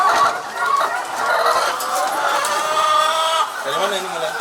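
Laying hens cluck and chatter in a poultry coop, a dense continuous flock sound heard under a voice talking.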